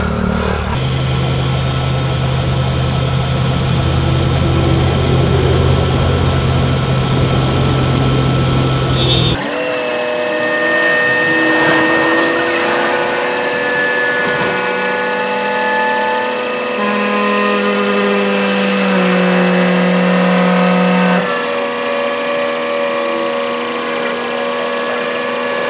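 A Catering Titan airport catering truck, built to serve aircraft from a 737 up to an A380 upper deck, runs its engine with a steady droning hum that shifts to a higher whining, mechanical tone partway through, loud and continuous with no talk.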